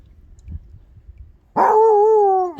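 A fluffy dog on a boat at Green River Lakes, Wyoming lets out a single loud, drawn-out bark-howl close by after a quiet stretch of low rumble, sounding protective toward people on the shore.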